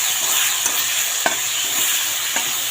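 Potatoes with green chillies, salt and turmeric sizzle steadily in a hot pan as a spoon stirs them, a continuous frying hiss broken by a few soft scraping clicks, close and alone.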